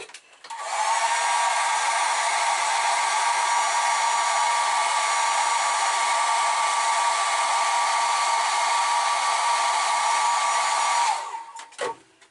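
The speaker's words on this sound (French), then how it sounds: "Je vais mettre un coup de sèche-cheveux et je vous reprends tout de suite." A hair dryer blows steadily for about ten seconds, drying a model car, a loud, close whooshing roar with a faint whine, then clicks off.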